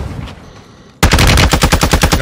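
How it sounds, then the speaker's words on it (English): Rapid automatic gunfire in a Resurgence Duos match: after a second of quieter ambience, a loud burst of about a dozen close, evenly spaced shots rattles off in quick succession. "Guy shooting at you, he's almost down."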